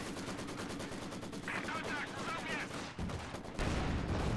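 Gunfire from the Company of Heroes strategy game, with a Maxim machine gun and Pak 40 in the battle: a dense, continuous clatter of shots and bursts filling the whole stretch, with louder impacts near the end.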